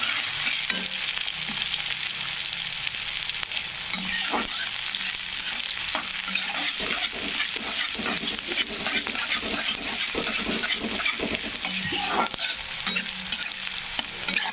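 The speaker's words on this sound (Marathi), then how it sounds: "कांदा छान असा फ्राय होऊ द्यायचा" Onion fries in oil in a pan for a sprout usal, a loud steady sizzle broken by repeated clicks and scrapes of a spoon stirring, no talking.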